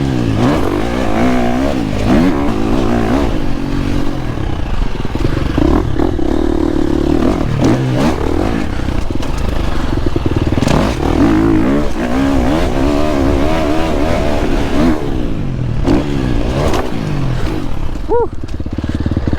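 A quad bike engine drones loud and close while riding, rising and falling as it accelerates, with rattles and clatter over uneven ground.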